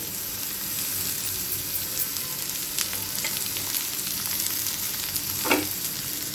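Chopped green chilli and cabbage stir-fried for vegetable fried rice, an even close sizzle under occasional spatula scrapes and one sharper clatter near the end, with no voices.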